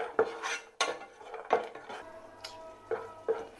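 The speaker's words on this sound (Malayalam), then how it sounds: "ഇനി ഇതിലേക്ക് കാഷ്യൂ, ഇതും കൂടി ഒന്ന് ഫ്രൈ ചെയ്തെടുക്കാം." Cashews frying for a beetroot halwa, stirred in a metal pan with a spoon: a run of sharp, close metallic scrapes and clinks in an irregular rhythm, with a faint sizzle underneath and no talking.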